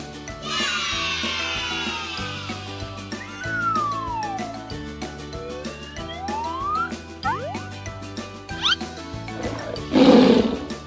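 Playful music with sliding whistle tones runs throughout, then a short, loud, rough lion roar bursts out near the end.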